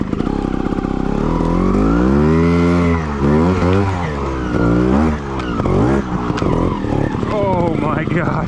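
A Sherco 300 ST trials motorcycle, a 2021 factory model, climbs uphill through snow with its wheel spinning; the engine revs rise and fall loudly and continuously throughout.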